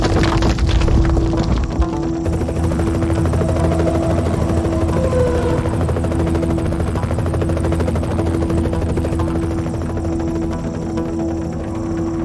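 A video game helicopter's steady rotor throb drones loudly and continuously, from Knight Rider 2, with a constant low hum underneath and no voices.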